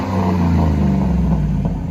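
Cadillac Escalade with a 6.2L V8 on 30-inch wheels, its aftermarket exhaust revved up loud and close, a deep steady rumble rising and holding through the clip with no talking.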